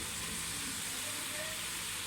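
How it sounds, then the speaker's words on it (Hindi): Mixed vegetables sauté in a hot pan for egg fried rice, giving a continuous, close, bright sizzle and hiss that holds steady throughout. "हमारी वेजिटेबल बहुत अच्छी तरीके से भुनाई हो गई है, बहुत अच्छे तरीके से सौते हो चुकी हैं"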